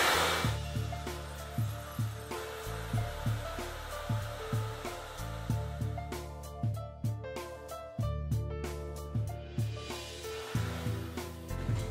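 A hair dryer blows continuously to dry a leather repair finish coating, a steady close whooshing hum with slight rhythmic fluctuations as it is moved over the surface.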